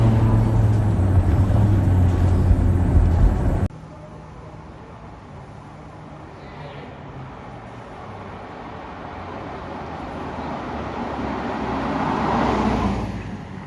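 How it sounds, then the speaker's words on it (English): A BMW E65 745i driving in regular mode with the windows down, giving a steady road and engine rumble mixed with wind noise. It is loud at first, then softer, then swells again near the end, while people talk. "So right now we're just driving in regular mode, as we like to call it."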